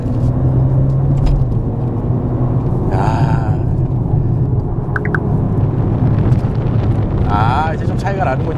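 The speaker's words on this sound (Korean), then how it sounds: "여기서 스포츠 모드로 바꾸고 우측으로 밀어서 패들 시프트로 한번 달려보도록 하겠습니다." A 2022 Maserati Ghibli GT driven in sport mode with paddle shifts gives a loud, steady engine and road rumble with wind buffeting, and a couple of brief shift blips rise over the drone. A voice talks over it.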